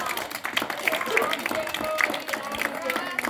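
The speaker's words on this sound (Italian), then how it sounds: "Un applauso a Elisa!" Applause at a kindergarten carnival party, quick scattered clapping from parents and children mixed with excited voices and chatter, lively and close throughout.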